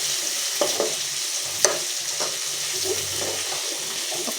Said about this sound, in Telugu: అల్లం వెల్లుల్లి పేస్ట్ పచ్చివాసన పోయేంత వరకు నూనెలో ఫ్రై కావాలి.